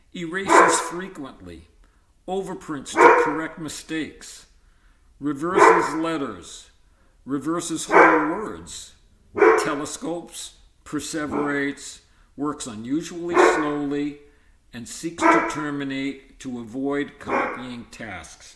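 A dog barks intermittently in the background of a quiet indoor room, brief faint yaps that sit under a man's steady read-aloud narration.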